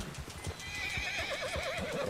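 Horse neighing and clip-clopping hooves in the video game Red Dead Redemption 2, a steady run of hoofbeats with a wavering whinny rising over them, fairly close and alone without talk.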